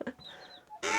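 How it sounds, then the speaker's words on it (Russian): A hen sitting on a freshly laid egg gives a short, close cluck, brief and fairly clear against a quiet background, with a louder burst of noise at the end. "Там вон сидит курочка, не уходит."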